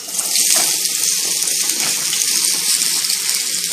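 Potatoes tossed into a pan of heated oil give off a loud, steady, hissing sizzle that stays even from start to finish, with no voices.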